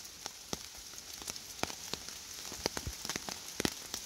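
Rain patters steadily on a tarp and surrounding leaves, with irregular louder drips falling from above. The sound is close and continuous, and no one speaks.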